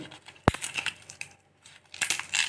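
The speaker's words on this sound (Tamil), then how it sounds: "ஒரு ரெண்டு இலையை வந்து கொஞ்சம் பிச்சு போட்டுக்கலாம் இந்த மாதிரி" Dried bay leaves are torn by hand while garam masala is made at home, giving close, crisp crackling and rustling bursts, one sharp snap near the start and more crinkling toward the end, separated by short quiet gaps.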